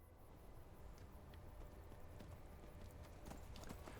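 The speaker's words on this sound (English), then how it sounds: "Watch how long this horse can run." A horse gallops steadily in a video game, its rapid clip-clop hoofbeats rolling on without pause, fairly quiet and heard alone with no talk.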